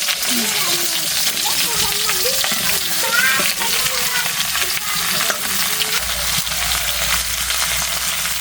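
Cauliflower and other curry vegetables sauté loudly in a pan, a continuous close hiss and sizzle with stirring scrapes, while a voice talks faintly underneath.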